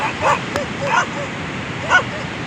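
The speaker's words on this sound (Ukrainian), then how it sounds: "Але собаки прийшли." Several short yips and barks from dogs close by, coming in three quick bursts with a thin whimper between them.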